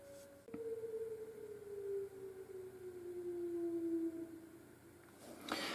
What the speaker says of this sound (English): Welcome to Iowa, where they blow a siren at noon every day.